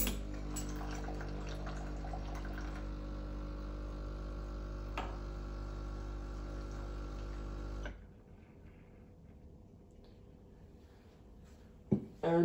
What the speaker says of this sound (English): You press that and it gives you water straight to the cup.